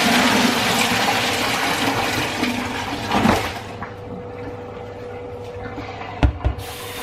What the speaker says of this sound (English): we're going to pour out this water